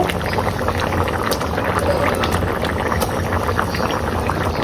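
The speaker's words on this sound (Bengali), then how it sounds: "এই যে তরকারিতে বলক উঠে গেছে" A pot of curry boils at a steady rolling bubble, a loud continuous gurgling close by with no talking.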